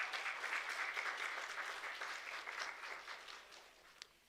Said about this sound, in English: A round of applause for Lorato